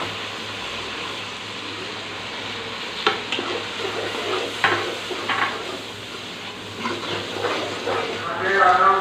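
Spices and softened onion frying in a pan for chana dal palak, a steady low sizzle with spoon stirring and scraping, under a person speaking.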